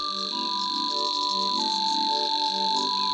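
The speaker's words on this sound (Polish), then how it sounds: "Jest to brzęczka," A Savi's warbler gives its buzzing song, a steady, dry, insect-like trill held without a break for the whole few seconds, with soft background music tones beneath it.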